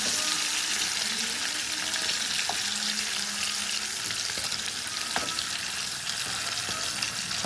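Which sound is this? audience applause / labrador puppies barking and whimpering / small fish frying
small fish frying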